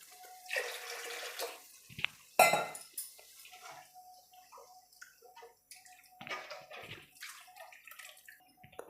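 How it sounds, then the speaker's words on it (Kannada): Water poured into a pot of boiling masala for a horse gram curry, a few splashy pours with clinks of utensils against the pot, close and fairly loud. "ನಾನು ನೀರು ಸೇರಿಸ್ಕೊಳ್ತೀನಿ ಇನ್ನು ಸ್ವಲ್ಪ."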